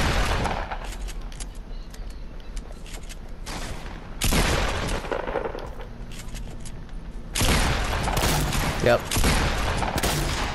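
Fortnite gunfire in rapid bursts, loud and close, with several volleys separated by short pauses, while players talk over the shots.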